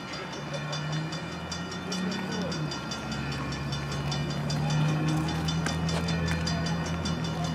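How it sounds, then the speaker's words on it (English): A steam locomotive triple header approaches from a distance, a steady rumbling roar with a sustained low tone and faint rhythmic pulsing, growing slightly louder over several seconds with no talking. "Alright, I think the train's coming."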